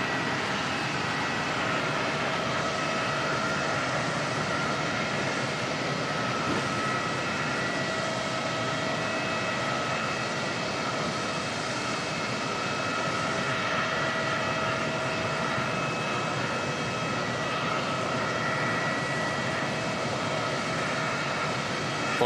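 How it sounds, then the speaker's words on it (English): Jetstar flight 283 to Dunedin pushes back at Auckland Airport as its engines spool up in the background, a faint, steady whine with sustained tonal hums over a low rumble. "Jetstar 283 push back, that's heading down to Dunedin. Just hear that starting up in the background."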